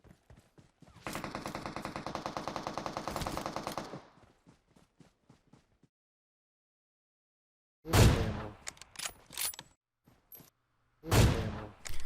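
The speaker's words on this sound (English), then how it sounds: "I got one of those bolt action rifle shots to get working" Gunfire in the PUBG Mobile battle royale game, including AWM bolt-action rifle shots: a rapid sustained burst, then a lull, followed by loud isolated sharp reports and echoing cracks.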